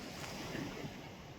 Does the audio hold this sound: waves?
yes